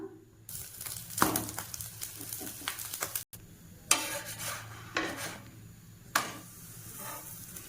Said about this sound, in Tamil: கொஞ்சமாக தேங்காய் எண்ணெய் ஊற்றிக்கிட்டு இந்த சப்பாத்தியை போட்டு எடுத்துடலாம்